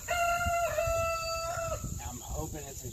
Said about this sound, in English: that's why I got the Lavender Orpington Rooster